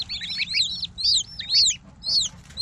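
Goslings and chicks peep and chirp in rapid high bursts close by, several young birds calling over one another in a safe pen, with soft low rustling underneath.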